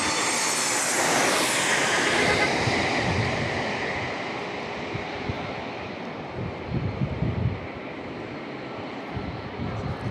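A United airliner arriving at San Diego International Airport roars past fairly close, its jet whine peaking early and then fading into a broad rushing drone with wind noise and faint distant sounds.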